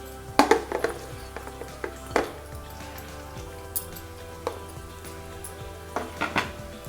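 Mustard seeds, fenugreek, coconut pieces and tamarind frying in a pan, a soft sizzle under repeated clinks and scrapes of a metal spoon against the pan.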